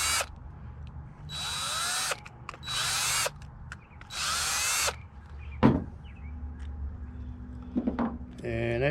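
A power drill backs screws out of a commercial-grade extension cord plug, whirring loud and close in three or four short bursts, with a person talking briefly near the end.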